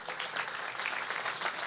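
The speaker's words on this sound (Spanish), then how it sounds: "¿Cuánto le dan un aplauso al Señor esta mañana?" A church congregation applauding for the Lord during a Spanish-language Sunday morning sermon, a brief burst of steady, dense clapping heard from within the room.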